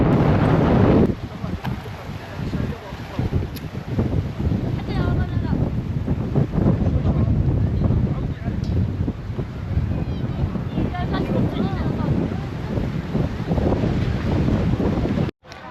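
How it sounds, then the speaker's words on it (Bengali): Strong wind buffets the microphone at the Dammam Corniche seafront, with a rough, churning sea beneath it; a loud, steady roar continues for the whole stretch. "আজকে প্রচুর বাতাস এবং খুব উত্তাল সমুদ্র।"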